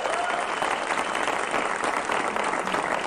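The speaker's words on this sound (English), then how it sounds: "I completely second those who were just applauding" An audience breaks into continuous applause, an even wash of many hands clapping at close range with no pauses and no voices over it.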